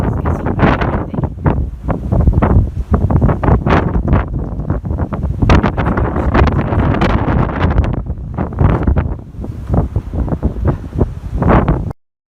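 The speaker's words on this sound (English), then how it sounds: "Prepare yourself, it's getting very windy." Strong wind buffeting the open deck of a ship near lifeboat davits and emergency ladders, a loud, close, roaring rush with gusty surges and heavy microphone buffeting that cuts off abruptly at the end.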